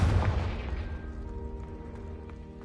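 A Confringo fire spell in a Harry Potter–style video game bursts with a loud booming blast that decays into a ringing, crackling tail over a few seconds.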